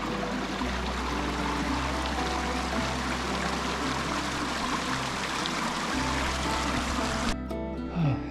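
A mountain stream flows steadily and close by on a solo backpacking trip near Mt Baldy, a continuous broad rushing and trickling wash of water running alone with no talk.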